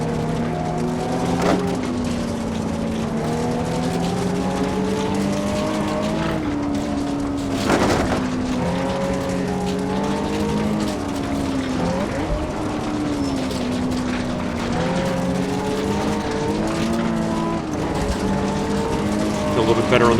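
Rally car in Richard Burns Rally, its engine revving loudly and continuously with rising and falling pitch through gear changes, tires scrabbling on the stage, while a person talks over it throughout.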